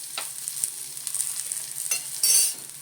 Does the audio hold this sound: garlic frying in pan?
yes